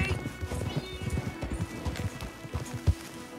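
Horse hooves clip-clopping on the ground in Red Dead Redemption 2, a quick uneven rhythm of fairly close thuds with a brief whinny mixed in, moderately quiet overall.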